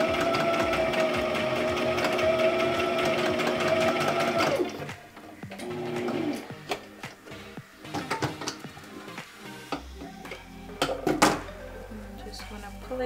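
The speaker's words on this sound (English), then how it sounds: "And then we're gonna do a few back stitches" A sewing machine runs close and steady for about five seconds while stitching back stitches onto face mask elastic. After it stops come clicks, thunks and handling noises, with a voice speaking softly at times.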